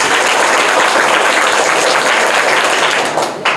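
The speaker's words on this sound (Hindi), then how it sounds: "जोरदार तालियां इनके लिए" Loud, close audience applause at a general-knowledge quiz prize giving, a thick continuous roar of many hands clapping that thins out only in the final moment.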